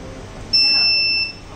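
A driver sleep alert system's electronic buzzer sounds one steady, close, high-pitched tone lasting under a second, then cuts off into quiet room background.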